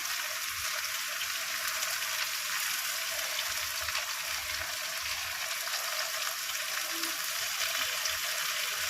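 Spiced chicken and potatoes with yogurt frying in a pan give a constant, even sizzling hiss that continues unbroken, close by and with no voices.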